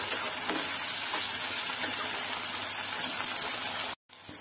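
Green chillies fry in a pan with a steady, fairly loud hiss and sizzle that cuts out abruptly near the end.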